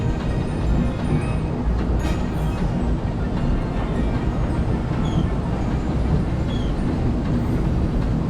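Disneyland Railroad train riding the Grand Circle Loop, a steady broadband rumble of wheels and carriage running continuously and close, with faint clicks and no voices.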